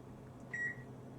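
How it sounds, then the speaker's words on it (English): A kitchen timer, apparently a microwave oven's, gives a single short electronic beep, faint over a low background hum. "that timer is going to go off."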